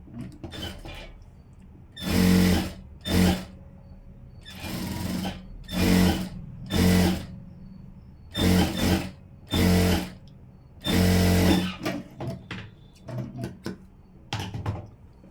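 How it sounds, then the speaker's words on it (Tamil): A sewing machine runs stitches along the edge of a blouse's lining and falls piece in a series of short bursts, about ten loud whirring runs separated by brief pauses, close and alone. "லைனிங்கில் வந்து அதான் இந்த ஃபால்ஸ் அண்ட் பீஸில் வந்து ஓரமாக ஒரு தையல் போட்டுக்கிறேன்"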